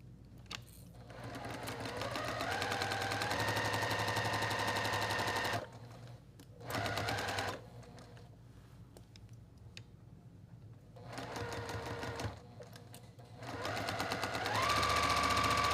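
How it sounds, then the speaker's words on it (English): A sewing machine stitching a straight quarter-inch seam on quilt block fabric, a close rapid mechanical whir in several bursts of varying length separated by short pauses. "I'm gonna sew with a 1/4 inch seam straight down here."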